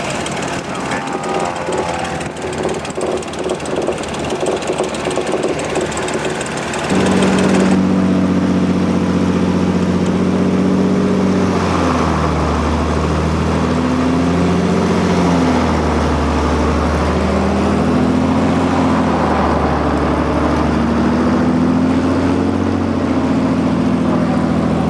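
A light aircraft engine runs on the ground at Oshkosh, a loud, steady droning rumble that steps up abruptly in power partway through and then holds, with people talking over it.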